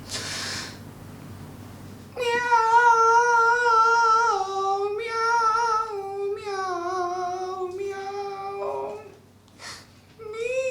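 A person imitates a cat with a long series of drawn-out, wavering meows, loud and close, in several phrases separated by short breaks, with no other voices.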